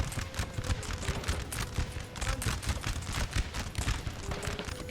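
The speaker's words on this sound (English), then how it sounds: "This one, however, is shooting at the cavalry, taking quite a few of them down." Line infantry in Napoleon Total War fire musket volleys at charging cavalry, giving a dense crackle of many overlapping shots under the steady drumming of hooves and battlefield din, heard at a moderate distance.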